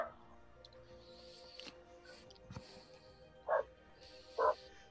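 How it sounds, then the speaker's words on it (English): A dog gives two short, bright barks in a warm house within a Warhammer Fantasy tabletop session, fairly close, spaced about a second apart, above a low room hum. "like I said, dog sounds happy."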